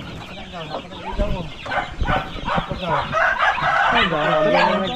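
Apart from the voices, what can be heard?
chicks peeping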